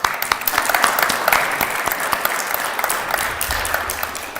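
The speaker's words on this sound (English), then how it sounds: "Give these folks a round of applause." An audience at a Boy Scout Court of Honor applauds newly standing Eagle Scouts and their families, a dense, sustained round of clapping that fills the room at moderate volume.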